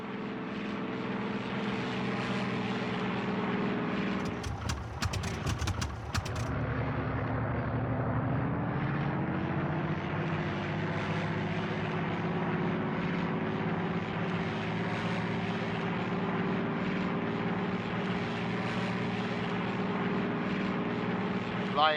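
Steady droning propeller aircraft engine in the flight game Air Conflicts Secret Wars, a continuous tonal hum that shifts pitch slightly, briefly broken by a short noisy burst early on, with a voice speaking over it.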